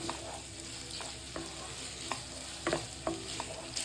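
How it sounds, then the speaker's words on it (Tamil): Peas sizzling and frying in a pan over a medium flame, with a steady hiss and occasional scraping stirs from a spatula, close up. "போட்டு இதை மீடியம் ஃப்ளேம்லேயே வச்சு வதக்கி விட்டுக்கினே இருக்கணும்."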